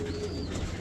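An imported blue bar female racing pigeon coos in a short, soft, low burble, close by, with steady background hum and no talking.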